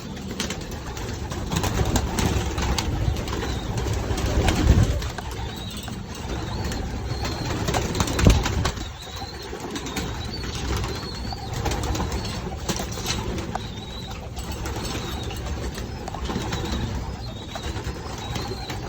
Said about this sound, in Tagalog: Papakain na tayo ng ibon.